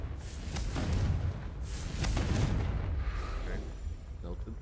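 A Confringo fire spell explodes in the video game Hogwarts Legacy, giving loud booming bursts with rumbling blasts and crackle over several seconds, while a person talks in between.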